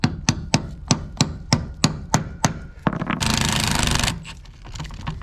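An impact tool rattles rusted nuts off an airboat axle with a rapid series of sharp, evenly spaced hammering clicks, followed by a dense one-second burst of hissing air, all close and loud.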